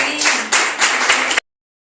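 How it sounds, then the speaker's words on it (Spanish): Church congregation claps hard in a dense burst for just over a second, then stops abruptly into silence. "Denle un aplauso al Señor."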